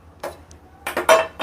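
Metal cookware clinks and clanks in a few sharp knocks as a pot is set onto a lit kitchen stove, close and brief against a quiet background.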